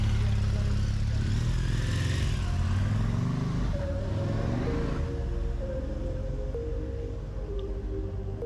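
A BMW R 1200 RT motorcycle engine runs steadily and loudly as the bike passes nearby on a road, its drone shifting in pitch as it moves by and then fading slightly.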